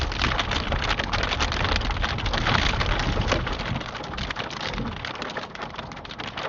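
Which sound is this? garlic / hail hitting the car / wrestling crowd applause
hail hitting the car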